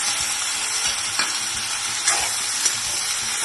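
Potato frying with amaranth leaves in a pan makes a loud, continuous sizzle, broken by a few scraping stirs.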